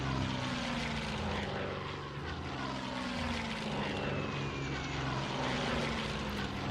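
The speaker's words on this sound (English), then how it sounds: "Let's get our attack bombers to deal with this tank though." Propeller-driven attack bombers droning overhead in the Hex of Steel strategy wargame, a steady, moderately loud engine hum holding for several seconds with no talk.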